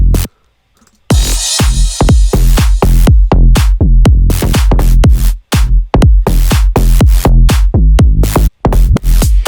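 A bass house track plays with punchy kick drums and chopped bass stabs in a steady four-on-the-floor rhythm, loud and upfront, with short gaps where the music drops out.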